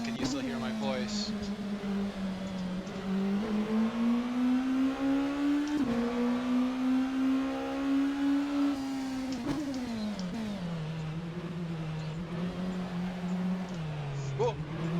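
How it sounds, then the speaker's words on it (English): A car engine in a racing video game drones steadily and loudly, its pitch sliding up and down as it revs and shifts, running unbroken throughout. "Is the game audio of the car too loud?"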